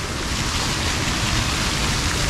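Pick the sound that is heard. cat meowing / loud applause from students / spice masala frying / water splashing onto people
water splashing onto people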